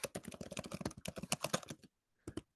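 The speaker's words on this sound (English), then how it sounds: "if I start typing, can people see what I'm typing for my password?" Rapid typing on a computer keyboard, a close, fast run of crisp key clicks for nearly two seconds, a short pause, then a couple more taps.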